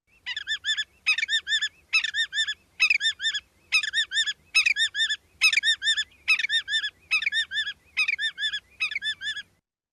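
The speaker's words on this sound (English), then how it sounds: "that one's more saying the willet, willet, willet, willet" A willet calls in a marsh, giving a fast, loud, clear series of about thirteen evenly spaced, repeated ringing phrases that continue without pause from start to finish.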